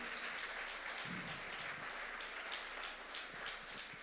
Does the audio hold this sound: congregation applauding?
yes